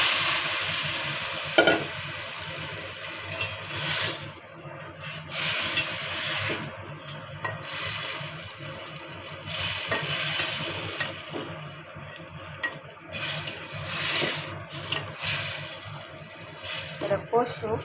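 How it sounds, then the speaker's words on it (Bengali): Goat meat sizzles and fries in a pan while being stirred, with steady scraping and stirring strokes over a continuous frying hiss, close and moderately loud. "এই এখন আমি খাসির মাংসটা দিয়ে দিব"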